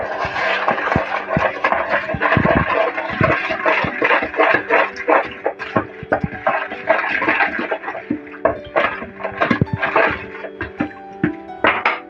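Warm water poured into yeast and sugar for dough, a loud, close, continuous splashing and gurgling stream with rattling knocks throughout, no voice over it.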